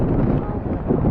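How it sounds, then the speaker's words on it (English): Steady low roaring wind buffeting the microphone at a UTV race, loud and continuous with no pauses. "And it's super windy out here as well, as you can tell."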